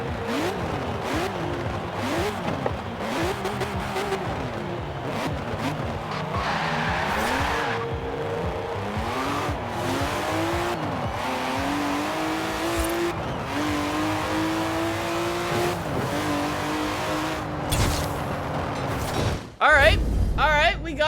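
A roaring V8 engine of a Chevy Silverado drift truck in Forza Horizon 4 revs and shifts pitch repeatedly while tires squeal through long skids, continuous and close, ending with a sharp burst.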